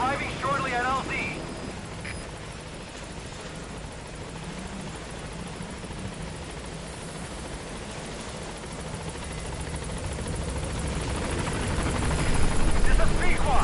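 The B-Quad support helicopter in Metal Gear Solid V arrives at a landing zone, its steady rotor drone filling the scene and swelling louder toward the end, with brief radio voice chatter at the start.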